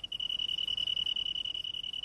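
A stem cricket chirps by rubbing its wings together in a fast, steady trill, a bright sustained buzz pulsing evenly and close, with nothing else around it.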